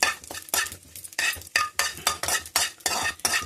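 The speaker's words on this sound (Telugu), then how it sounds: "ఎండుమిర్చి వేసుకోవాలండి. సిమ్లోనే వేపుకోవాలండి." Peanuts and dried red chillies are stirred and fried in a pan on low heat, a spatula scraping in rapid, repeated strokes over a light sizzle, close and fairly loud with no talking.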